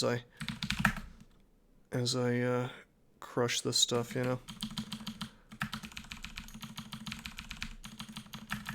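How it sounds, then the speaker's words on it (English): Computer keyboard typing during a Dungeon Crawl Stone Soup game stream, a steady rapid clicky-clacky patter of keys close to the microphone, running under a man's speech and continuing alone afterwards. "you're just going to hear my keyboard going clicky-clacky"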